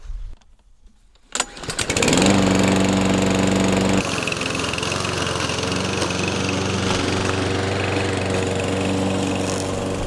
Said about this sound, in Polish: Biorę kosiarkę i się zabieram za robotę.